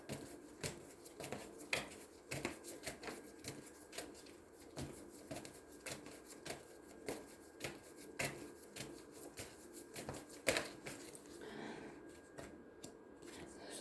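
Tarot cards are shuffled by hand in a steady run of soft riffling bursts and papery snaps that repeat throughout, close and moderately quiet, with no one talking.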